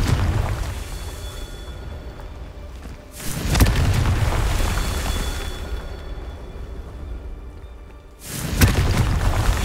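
Booming spell blasts from the Confringo fire spell in the video game Hogwarts Legacy: two loud thudding explosions a few seconds apart, each followed by a long rumbling tail, with no talk.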